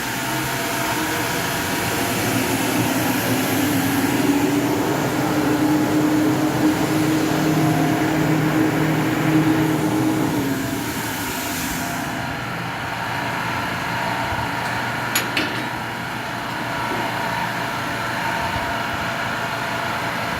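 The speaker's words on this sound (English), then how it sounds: "Then I can turn the exhaust on." The exhaust fan on a RIG48 CNC plasma cutter setup drones with a continuous broadband whoosh, louder during the first half and settling to a lower steady hum with a brief tick later on.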